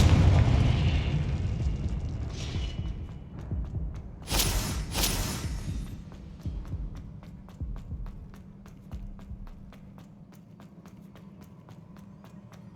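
The Confringo fire spell in the video game Hogwarts Legacy on Xbox Series S explodes with a loud burst and booming blast, followed by rumbling and footstep-like thuds fading beneath game ambience.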